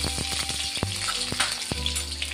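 Curry leaves and mustard seeds sizzling in hot oil for a Marathi aamti, a dense continuous frying hiss with a few sharp pops and crackles, close and alone without talk.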